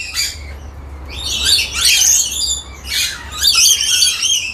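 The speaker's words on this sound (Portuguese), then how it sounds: "Esse é o lores arlequim, o molucanos arlequim." Harlequin lories (Moluccan lories) at an aviary give loud, shrill screeching calls in two bursts, close and unaccompanied by talk.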